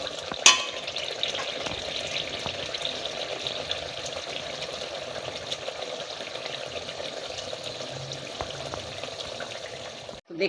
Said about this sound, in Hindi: मैं इसको जब तक भूनूंगी, जब ये पानी दही छोड़ देगा